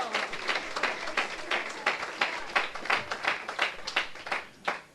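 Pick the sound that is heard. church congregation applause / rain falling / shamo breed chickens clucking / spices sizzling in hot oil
church congregation applause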